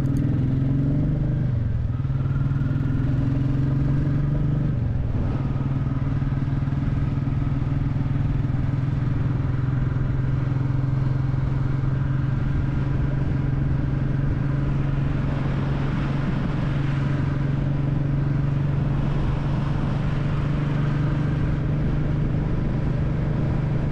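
A Royal Enfield Classic 350 motorcycle is ridden through farmland countryside, its single-cylinder engine thumping steadily at close range along with wind rush for the whole ride.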